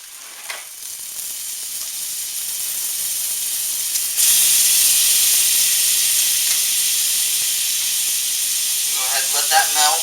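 Butter melts in a hot pan while cooking garlic Alfredo shrimp, giving a steady, moderately loud sizzle and hiss that swells partway through and carries on without pause.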